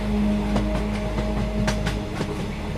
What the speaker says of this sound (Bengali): হঠাৎ ঘুম ভাঙতেই রামু দেখল ট্রেনটা চলতে শুরু করেছে।